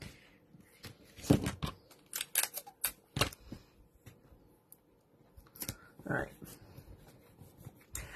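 Scissors trimming cardstock paper for a handmade birthday card, a few short crisp snips in separate bursts, close and fairly quiet, with no talking.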